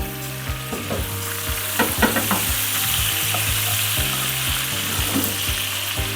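Steak searing in a hot pan at home, a dense continuous sizzle with crackling spits and a faint repeating tonal hum underneath, close and steady, no talking.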